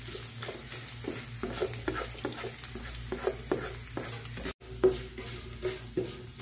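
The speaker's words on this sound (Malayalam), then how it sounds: "വെളുത്തുള്ളിയൊക്കെ മൂത്ത് വന്നിട്ടുണ്ട്" Garlic sautés in hot oil in a pan while being stirred, producing a continuous sizzle with rhythmic scraping strokes of a spoon, a brief cut partway, then more stirring clinks; no talking.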